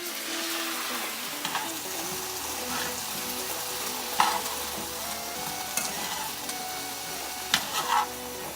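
Green beans and garlic sauté in coconut oil at a camp kitchen with a steady close sizzle. Scattered clicks and scrapes from a utensil stirring the pan run throughout, with a few sharper knocks.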